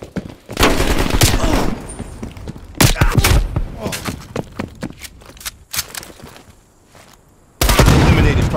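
Gunfire in Call of Duty Black Ops Cold War Team Deathmatch on the Diesel map: loud bursts of automatic fire and single shots with thuds, broken by quieter gaps, then a heavy burst at the end, with voices speaking in between.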